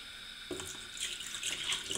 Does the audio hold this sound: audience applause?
no